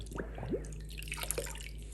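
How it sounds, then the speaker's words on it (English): Water being flushed through a trumpet as it is rinsed clean, giving a few close gurgles, drips and splashy squishes of liquid running through the brass tubing. "So now I'll just rinse this out real well."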